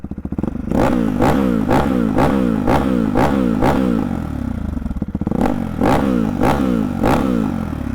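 A Hyper 698 S1 motorcycle with a race exhaust revs hard and close, about ten sharp throttle blips in a steady rhythm, each snarling up and dropping back to a rough idle, loud and alone.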